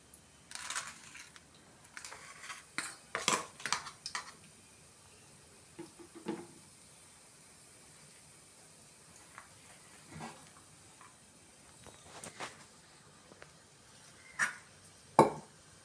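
Whole spices for biryani, including bay leaf, cinnamon, cloves and star anise, fry in a pot, giving faint, sparse crackles and pops with scattered louder spits against a quiet background.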